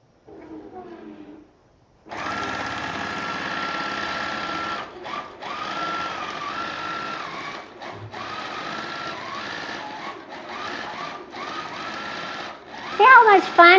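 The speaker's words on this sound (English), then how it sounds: "now we can just gently hold on to our thread and tap on sew. And we're going to quilt our little bear" A sewing machine runs automated quilting of a small bear design, its steady high motor whir and rapid needle stitching humming close and fairly loud with brief pauses, and someone speaks softly before it starts.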